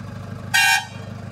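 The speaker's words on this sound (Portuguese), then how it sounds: "Vai buzinar aqui dentro." A truck horn honks once inside a newly acquired truck cab, a single loud blast of about a quarter second over a steady low engine idle.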